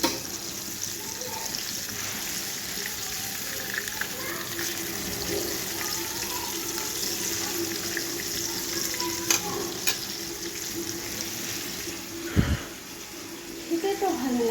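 Food frying in a pan makes a continuous hissing sizzle that runs under the whole stretch, with occasional stirring scrapes and a brief clatter near the end.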